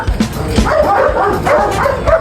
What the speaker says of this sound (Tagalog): Siguro meron dito mga 50 plus na aso.